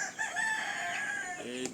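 A Dominique rooster crows once, a loud, close, drawn-out call lasting over a second that ends in a lower, tapering note.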